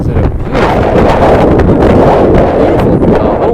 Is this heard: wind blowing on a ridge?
yes